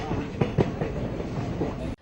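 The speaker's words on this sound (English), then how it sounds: "On board Shramik train with Ashutosh" A Shramik passenger train runs on rails in India, heard from on board as a loud, steady rumbling roar with rhythmic clicks of wheels over rail joints, cutting off abruptly.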